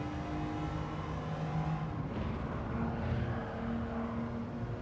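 A racing car engine in a time trial video game, with a steady droning whine holding near-constant pitch under a dense, continuous roar with no talk.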